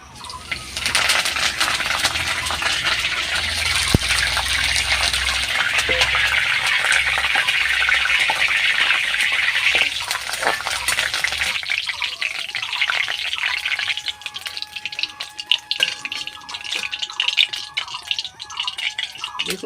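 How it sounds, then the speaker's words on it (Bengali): Curry leaves spitting and crackling in hot oil as they fry for homemade jhuri bhaja (besan bhujia), a steady dense sizzle that eases after about twelve seconds into lighter scattered pops. "আমি হাতে কারি পাতা নিয়েছি এবারে আমি এটা তেলের উপর দিয়ে ভেজে নেবো"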